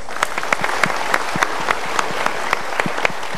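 Indoor seminar audience applauding a talk show guest, a short burst of scattered, rhythmic hand claps from a small crowd, moderately loud and without talk over it.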